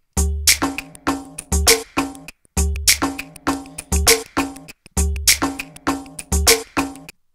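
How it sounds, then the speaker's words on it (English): Drum loop playing from Ableton Live, a repeating electronic beat of punchy kicks, snares and hi-hats cycling about every 2.3 seconds, loud and clean with no voices. "So what I have right now is I have this drum loop,"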